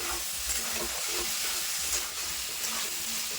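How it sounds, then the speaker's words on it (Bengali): Cut capsicum pieces fry with masala in a pan for a rui fish curry, a continuous close sizzle with soft stirring scrapes and a hissing steam layer, no talking. "এখন দিয়ে দেবো মশলার সঙ্গে কিন্তু একটু কষিয়ে নেবো ক্যাপসিকামগুলো"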